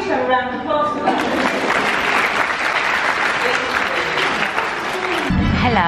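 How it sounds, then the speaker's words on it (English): Audience applause breaks out and continues steadily at a loud, close level, with voices and cheering mixed into the clapping throughout. "I think we should have a round of applause for that."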